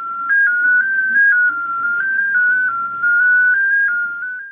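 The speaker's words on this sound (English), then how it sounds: "That's the sound of FSQ," An FSQ (Fast Simple QSO) amateur radio digital mode signal plays as a single steady, whistle-like tone that steps slightly up and down in pitch, loud and clear on its own.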